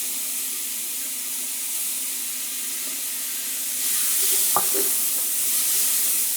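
Three cloves of freshly chopped garlic sizzle in a hot pan as an even, continuous hiss that swells slightly toward the end, with one sharp clink partway through.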